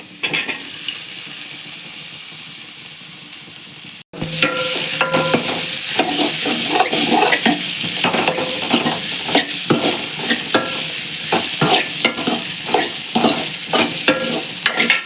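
Bitter gourd tossed into sautéing onions in a pan: after a steady hiss, a sudden loud burst of sizzling with continuous rapid stirring and scraping, no voices.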